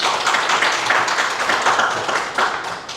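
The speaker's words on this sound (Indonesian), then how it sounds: "Tepuk tangan boleh." Audience clapping steadily at an Indonesian television journalists' association installation ceremony, dense and continuous across the whole span, fairly loud with no talk over it.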